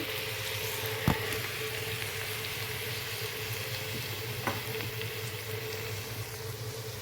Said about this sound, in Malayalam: ഇതിലേക്ക് നമ്മൾ അരിഞ്ഞ് വെച്ച ചക്കക്കുരുവാണ് ഇടുന്നത്